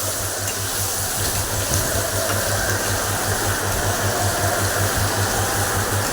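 Potatoes fry on low heat in a pan, giving a loud, steady sizzling hiss that runs unbroken throughout with a faint low hum beneath.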